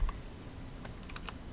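A B key is pressed on a computer keyboard to select a brush tool, giving a few soft, close clicks over quiet room hum, with no voices.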